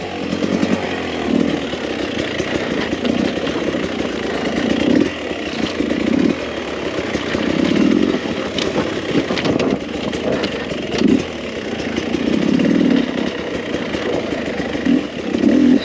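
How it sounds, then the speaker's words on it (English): A 2021 Beta 300RR motorcycle engine buzzes under throttle, rising and falling in repeated revving bursts with a raspy two-stroke-style drone, close and fairly loud, with no talking. "The engines just sound so good all the time."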